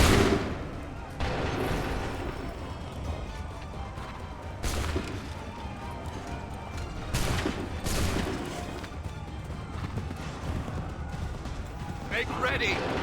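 Musket volley in Assassin's Creed III, a crashing burst of massed gunfire with several sharp broadband blasts echoing over a dense battlefield din, under shouted voices.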